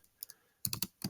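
Keys clatter on a computer keyboard while CSS code is written, a short double tap followed by a brief burst of rapid clicks and a final pair, close and fairly quiet.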